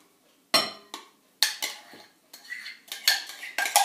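A utensil scrapes and clinks against a bowl in uneven bursts while cheesecake batter is stirred together with a cherry fromage blanc mixture, the strokes quickening toward the end; no talking.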